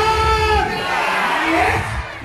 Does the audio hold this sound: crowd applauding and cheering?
yes